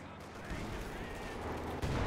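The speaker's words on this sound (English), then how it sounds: "Oh, Zisk gun firing." Gunfire from a ZiS gun in a video game, a dense crackling barrage of shots with rumbling low end, continuous through the short stretch, with a voice talking faintly underneath.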